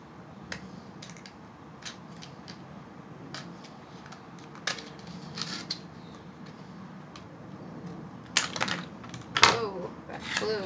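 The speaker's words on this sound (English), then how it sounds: "now you're going to cut this section" Scissors cut through the plastic tray of a Kracie takoyaki kit, making sharp, scattered clicks and snips at close range, with a louder cluster of cuts near the end.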